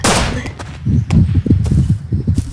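Gunfire in the survival game Rust: a loud opening shot, then rapid bursts of automatic fire, close and sharp, no talking.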